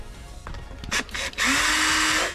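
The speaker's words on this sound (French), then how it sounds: "Donc là je vais percer le tableau de bord." Power drill boring through a camper van dashboard, a few short bursts of contact noise, then a sustained whirring drill lasting about a second, fairly quiet and close.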